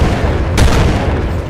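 A single loud grenade blast in Battlefield: Bad Company 2 erupts as a sharp burst that rumbles and decays amid steady battle noise, with no voices.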